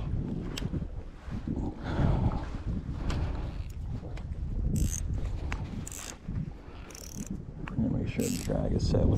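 Wind gusting across a lake during a December fishing trip, a steady broadband rush with louder buffeting gusts and some microphone wind noise, close and continuous throughout.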